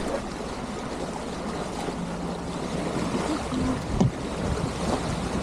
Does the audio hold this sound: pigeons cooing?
no